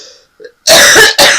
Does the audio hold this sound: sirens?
no